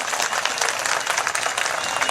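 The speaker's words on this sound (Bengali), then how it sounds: "শওকত মোল্লার জন্য একটা জোরে হাততালি দিন এখানে বসে।" An audience at a gathering gives a loud round of applause for Shaukat Molla: dense, steady clapping that holds at an even level throughout, with no talk over it.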